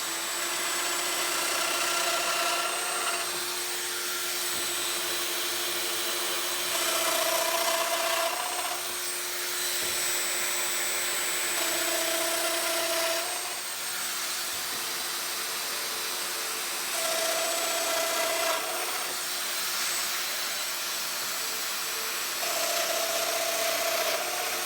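A Festool Domino joiner cuts straight through a piece of wood with a continuous loud, close, gritty whine, its pitch rising and easing in repeated cycles as the cutter plunges and works through the stock.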